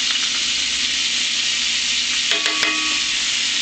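Canned minced garlic, about three tablespoons, frying in a hot pan: a loud, steady, broadband sizzle that holds throughout, with a few brief clinks of a utensil near the end.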